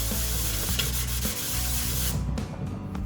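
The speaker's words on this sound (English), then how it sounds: "grit sandpaper, you put it on a block like this, and you just go over every single one of these in like a circular motion" Sandpaper on a sanding block rubbed in circular strokes over a flat aluminum intake manifold surface on a Chevy Venture, a steady close scratchy rasp that eases off briefly and then fades near the end.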